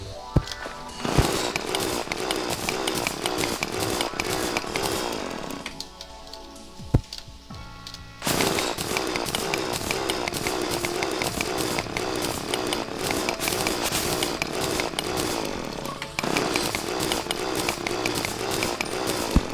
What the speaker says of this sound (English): Sorry if the drill is a little loud.